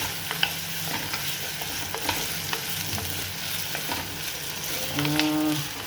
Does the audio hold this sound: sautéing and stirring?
yes